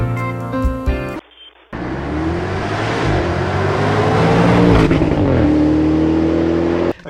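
Land Rover Defender V8 with a QuickSilver Sound Architect exhaust upgrade, a brief burble, then a loud sustained roar as the engine revs up and holds before cutting off sharply.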